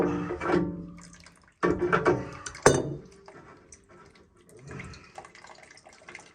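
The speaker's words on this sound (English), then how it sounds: "We are only now taking out the water that's in the radiator." Water drains from a radiator into a container during a bathroom renovation, splashing and trickling in uneven bursts with brief pauses, close up and fairly loud.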